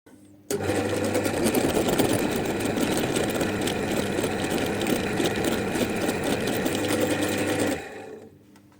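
A power tool fitted with tungsten carbide cutting bits plunge-cuts a groove during a pressure washer repair, giving a loud, steady buzzing whine that starts abruptly, holds for about seven seconds and then cuts off.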